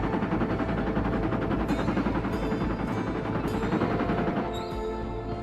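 Dense, continuous rumbling gunfire from a distant assault rifle in Fortnite: Save the World, a steady mechanical roar with a few sharper cracks near the end.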